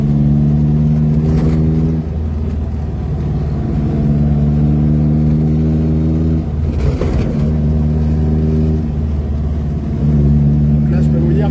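Small rear-engined Vespa 400 car of about 500 kg and 90 hp, accelerating hard from inside the cabin, its buzzing engine climbing through the gears in rising harmonic sweeps with brief shift dips; voices murmur under the engine.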